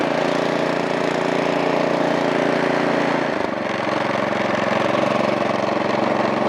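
A Troy Bilt two-stage snow blower engine idles at low RPM with a steady, buzzing drone, close and constant, its tone dropping slightly partway through.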